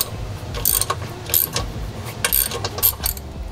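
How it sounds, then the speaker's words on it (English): An E12 Torx socket on a ratchet wrench loosens a bolt on a BMW, producing a close series of quick ratcheting clicks in short bursts across a few seconds. "you're going to take an E12 and remove this bolt here"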